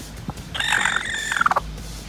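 A broody hen gives a drawn-out, wavering cry that rises into a strained, gobble-like call and ends in a few short sputtering clucks, close and clear over a quiet background.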